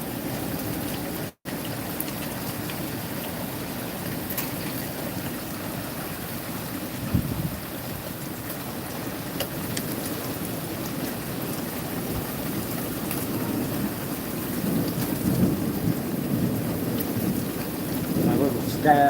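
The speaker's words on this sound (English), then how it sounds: "And now the hail is starting to come down." Thunderstorm with hail coming down, a continuous dense hiss of falling ice and rain with a low rumble swelling briefly partway through, steady and close throughout.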